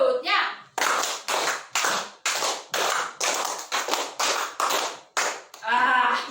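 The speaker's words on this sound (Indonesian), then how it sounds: "Jadi tepuknya sampai 10." Primary school children in a coding class in Alor, Indonesia, clap a counting rhythm together, loud unison bursts of claps separated by short pauses, with children's voices briefly audible at the start and end.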